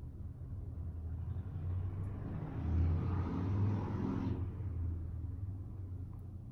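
A loud truck rumbles past outside, a low engine drone that swells to a peak midway and then fades away, heard faintly through walls indoors with no talk.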